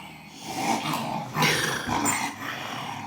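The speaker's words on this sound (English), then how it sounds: "That's my dog's playing again." Dogs growl and yip playfully at close range in uneven bursts, low snarls rising and falling over a few seconds.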